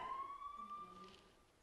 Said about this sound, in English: do you hear that siren?